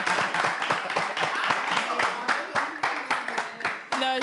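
A live audience claps and applauds steadily in a dense, continuous wash of hand claps at a televised show, with a brief musical tone rising near the end.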